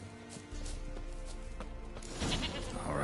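Goat bleating in The Witcher video game, several wavering calls over steady game ambience, growing louder toward the end.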